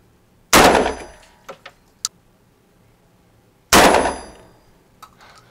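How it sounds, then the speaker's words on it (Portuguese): Two loud, sharp AK-47 rifle shots, several seconds apart, each with a fast ringing decay, with a few small clicks and clinks of handling between them and no talk. "Pode atirar, pode descarregar. Vai os 10 tiros."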